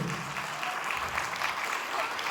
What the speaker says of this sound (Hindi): मैं चाहता हूं तमाम प्रस्तारों के लिए जोरदार तालियां बजाएंगे